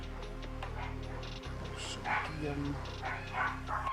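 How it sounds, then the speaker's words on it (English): Several of the speaker's seven pet dogs bark and yip in short bursts in the background, with someone talking over them throughout. "Apologize if you can hear my dogs in the background."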